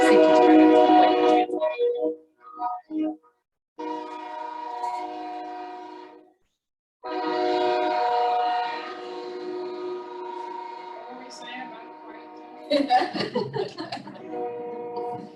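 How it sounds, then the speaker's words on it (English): A train passes near a city meeting room with long, loud horn blasts. The sustained tones stop and start several times, and a brief rumble of rail noise and voices follows. "We can't hear anything beyond the train."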